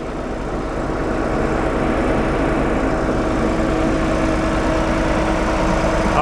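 An old tractor's engine idles close by, a steady low rumbling chug with an even throb that holds constant throughout, loud and unbroken by any speech.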